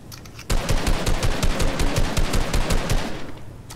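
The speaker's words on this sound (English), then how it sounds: "He's shooting down all the bins." Rapid automatic gunfire from a Fortnite Season 5 match, a player shooting down bins: a dense, loud, evenly paced stream of shots lasting about three seconds, then cutting off, with no voices.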